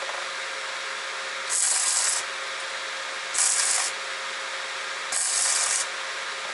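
An arc from a Tesla 295 welding inverter burns with a dense, continuous crackling hiss; three times a brighter, harsher hissing surge rises for about half a second over the steady crackle.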